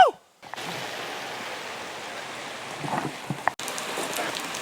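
Rain falls steadily outdoors at a motorcycle rally, a continuous broadband hiss after a brief opening sound and pause, with a few louder splashes or knocks and a short cut near the end.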